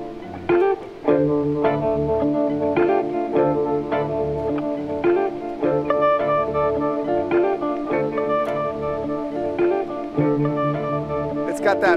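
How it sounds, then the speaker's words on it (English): Electric guitar notes and chords shimmer with a wavering, pulsing tube vibrato, played clearly and steadily without any talking. "Got that shimmery tube vibrato."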